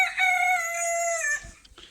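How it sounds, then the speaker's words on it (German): A chicken on a farm gives one drawn-out, strained call close by, like a crow or loud cackle, cut off abruptly, followed by faint rustling. "das Huhn"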